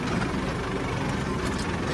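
A tractor engine idles in a rain-soaked field, giving a brief, steady, close low rumble with no pauses.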